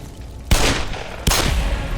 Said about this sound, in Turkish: O anda bir kurşun sesi duydu.